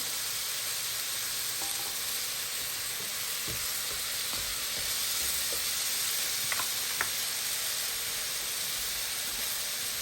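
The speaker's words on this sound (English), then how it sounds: "I guess you can hear that sizzling too." Apples frying in a pan: steady sizzling and frying hiss fills the whole stretch, with occasional soft clicks and stirring noises close by.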